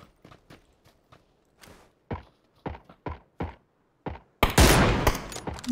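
QBU rifle fire in the video game PUBG rings out as a string of separate sharp single shots spaced irregularly, ending in a sudden much louder, dense burst of noise.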